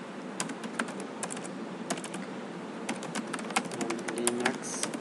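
Fast typing on a computer keyboard at a Linux command line, a close run of crisp key clicks in bursts with brief pauses, no talking.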